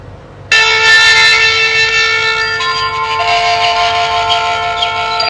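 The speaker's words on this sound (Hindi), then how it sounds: "शंख पे अगर आपने इसे रखा तो फिर से आपको शंखनाद सुनाई देगा" A devotional audio box playing Krishna aarti sounds a recorded conch blast (shankhnaad). It is one loud, sustained, brassy drone with rich overtones that starts abruptly, holds for about five seconds with a slight pitch shift partway through, and then stops.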